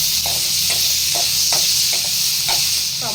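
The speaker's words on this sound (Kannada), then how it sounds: "ಇವಾಗ ಒಂದು ಮೀಡಿಯಮ್ ಗಾತ್ರದ್ದು ಟೊಮೊಟೊ ಹಾಕೋತಾ ಇದ್ದೀನಿ" A medium tomato goes into a hot pan and fries, a continuous loud sizzle and hiss broken by occasional stirring scrapes and light clacks, close up with no voices.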